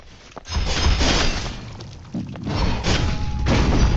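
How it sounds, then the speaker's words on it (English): A frag grenade explodes in a gory Roblox game: several deep booming blasts with shattering, crunching debris, loud and close, the bursts rolling one after another with short dips between them. "Frag grenade!"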